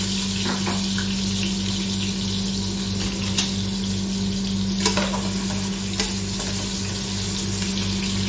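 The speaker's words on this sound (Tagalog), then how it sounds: "Una kong ipiprito is yung patatas." Potatoes fry steadily in oil for chicken biryani, a loud, even sizzle that carries on without a break, with a few light scrapes of stirring and a low hum underneath.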